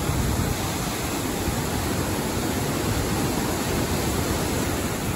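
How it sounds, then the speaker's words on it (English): A mountain waterfall rushes close by in a steady, loud, broadband roar that masks everything else and never varies in strength. "found a little pull-off and saw a waterfall"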